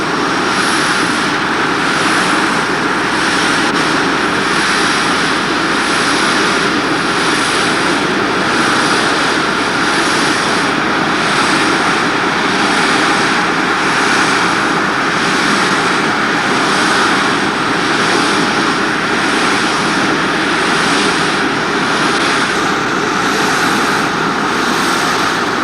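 US Air airliner engines running steadily on the ground before takeoff, a loud constant roar and whine that stays even throughout, with no voices.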